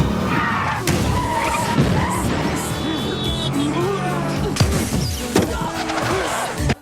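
Car tyres skidding and screeching during a movie fight scene, loud and close, with engine noise, thuds and slams between long squeals and some indistinct voices in the mix.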